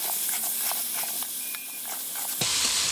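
Washed, salted cauliflower goes into hot oil in a kadai: a soft steady hiss at first, then a sudden loud, close burst of sizzling that keeps crackling to the end.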